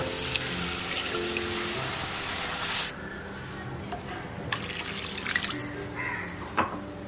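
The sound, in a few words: water poured into cooking pot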